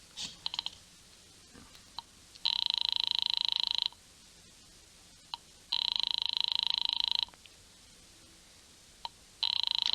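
Old-time radio drama telephone ringing in three long electric bell bursts, each about one and a half seconds, separated by pauses with faint clicks, fairly loud and alone without voices.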